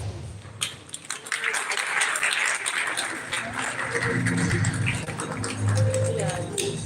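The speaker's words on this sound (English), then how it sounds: "Give them another round of applause, everyone." An audience applauds at the Miffest 2025 stage event: crowd clapping builds into a sustained wash of sound, with voices talking over it.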